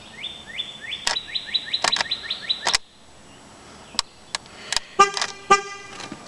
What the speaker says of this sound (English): you keep doing this till you hear a horn chirp.